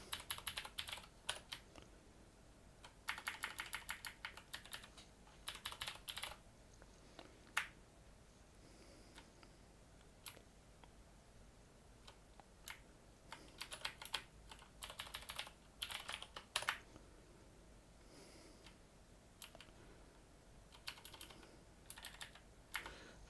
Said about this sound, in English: I'm typing with gloves on, it's not really my thing.